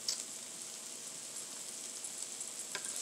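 Birria chicken tacos crisp on a hot flattop griddle, giving a steady, even sizzle throughout with a faint crackle now and then, close and continuous, with no voices.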